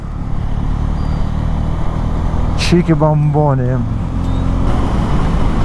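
A Bajaj Pulsar N250 motorcycle cruising on a highway around 120 km/h, its steady engine drone and wind roar running loud and continuous throughout, with a brief voice singing or speaking over it midway.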